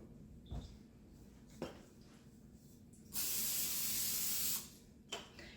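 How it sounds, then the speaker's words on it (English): Non-stick cooking spray sprayed onto a baking pan for chocolate chip cookies: one sustained, loud hissing burst of about a second and a half, with a few light clinks and handling knocks of the pan before and after. "I go ahead and spray it with some non-stick spray"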